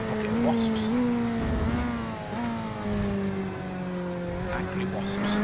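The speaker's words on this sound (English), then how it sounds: "Engine sounds like a bucket of wasps." A Corvette race car engine in a racing game revs high and buzzy, rising and falling through gear changes with a slight tire squeal, while a commentator talks over it.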